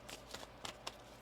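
Tarot cards are shuffled in four quick, soft riffling bursts, fairly faint and close, with no voices.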